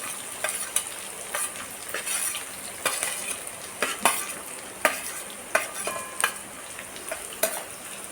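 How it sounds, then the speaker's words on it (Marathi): Finely chopped medium onion fries in oil until brown for dhaba-style palak paneer, a steady close sizzle punctuated by repeated sharp spatula scrapes and clinks against the pan, about a dozen strokes, no speech. "छान ब्राऊन होईपर्यंत आपण कांदा तळून घेऊया"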